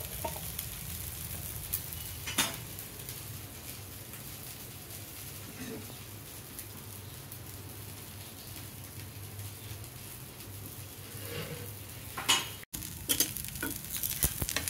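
Onion pesarattu, a green gram dosa, sizzles in oil on a hot pan with a steady low crackle, broken by a few louder stirring or scraping clicks near the end.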